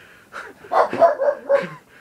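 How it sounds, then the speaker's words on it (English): A pet dog barks in the background indoors, giving four or five short, yappy barks in quick succession, fairly close and moderately loud, with no talking over them. "That'll be my dog barking in the background."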